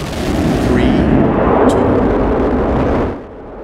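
Recorded main engine start of Space Shuttle Endeavour on its final launch: a loud, continuous rumbling roar that holds steady for about three seconds, then drops away to a lower, quieter rumble.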